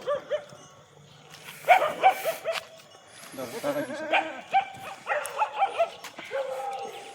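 Pregnant goats bleat repeatedly from close by at a goat seller's, several wavering calls overlapping in an uneven stream.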